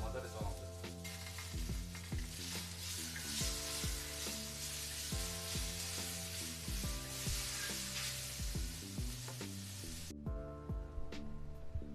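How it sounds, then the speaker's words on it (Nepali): Onion and tomato sizzling steadily in a pan while being stirred, a loud continuous fry hiss with background music playing throughout, briefly dropping near the end. "टमाटर पनि हाल्थेँ अब यसलाई मजाले चलाउँछु"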